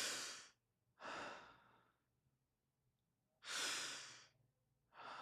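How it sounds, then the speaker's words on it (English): Two pairs of deep breaths drawn into the chest during a guided breathing exercise, each a long airy inhale or exhale with quiet pauses between, close and soft. "You're gonna take two breaths into your chest"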